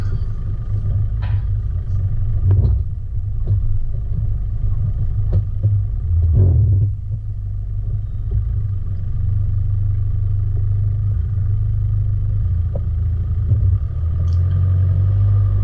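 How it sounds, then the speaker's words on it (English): A 4WD with the rear diff lock engaged revs while all four wheels spin without moving forward on a winter creek track, a steady close low engine rumble with occasional knocks and bumps. "But that's all four wheels spinning"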